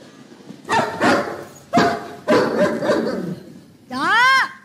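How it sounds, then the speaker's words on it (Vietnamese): A dog gives several loud, close barks in quick bursts, followed by a rising and falling yelp or whine-like sound. "Chó."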